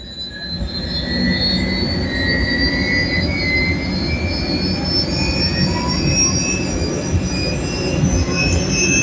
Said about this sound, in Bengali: এখন ইঞ্জিন স্টার্ট আপ দেওয়া হচ্ছে এই প্রপেলার ঘোরা শুরু হয়েছে